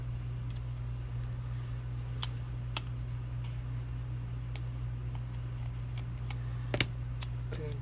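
Scissors snip through paper in scattered sharp clicks, about a dozen irregular cuts close by over a constant low electrical hum, with no talking.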